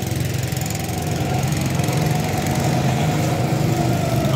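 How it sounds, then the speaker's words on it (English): Go kart engines running at a go kart track in Dawlish Warren, a loud buzzing motor drone with a rough, throbbing edge, continuous and fairly close, with no talk. "These are the Go Karts in Dawlish Warren."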